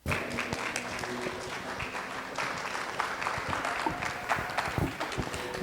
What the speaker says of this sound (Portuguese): Eu queria pedir a todos aplausos de boas-vindas a Daniela Zup e Jacinto Lins Brandão.